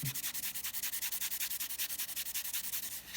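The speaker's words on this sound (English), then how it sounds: "I will spend a little bit of time polishing this up." A custom watch dial is polished with abrasive grit in quick, even rubbing strokes, a steady rhythmic scratching of about eight strokes per second, close and fairly loud with no talking.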